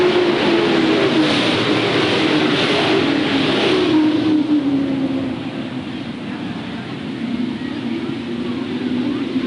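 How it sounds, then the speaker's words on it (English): Sportsman race cars roar around the Hales Corners Speedway oval, a loud, continuous engine drone with shifting pitch as the pack passes, easing slightly partway through. "Now Blake battles back in the outer groove of the Speedway"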